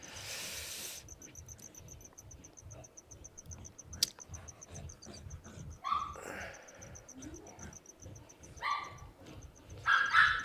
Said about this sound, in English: Sorry about the dogs, guys. I can't do anything about the background noise.